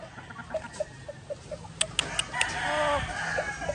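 Texas Asil chickens on a breeding farm cluck in short, repeated, close bursts, with a few sharper squawks partway through and low background hum throughout.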